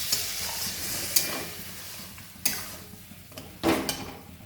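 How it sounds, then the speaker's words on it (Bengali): Rice-flour paste going into a pan of khesari greens and fish head over a low gas flame, with a soft continuous sizzle and a few sharp scrapes and clatters of a utensil against the pan. "এই পিটালিটা ঢেলে দেবো।"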